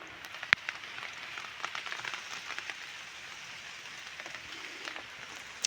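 Steady monsoon rain falling and pattering on a ginger field in the Malenadu region, with scattered heavier drops and no voices.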